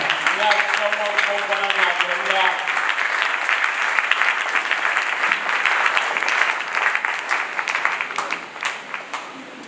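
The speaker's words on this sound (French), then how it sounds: "Avec votre acclamation, nous invitons le prophète Ivan." A church congregation in Togo bursts into loud, sustained applause to welcome Prophet Yvan, dense clapping from a large crowd with a voice heard over it early on, tapering slightly toward the end.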